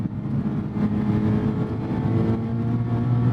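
Engine of a modified 2019 Mazda ND2 Miata sports car, a steady low drone that holds close and even throughout without a sharp rev climb.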